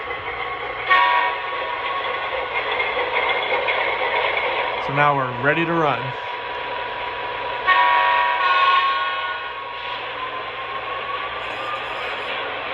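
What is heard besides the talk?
model train locomotive sound effects, engine chimes and horn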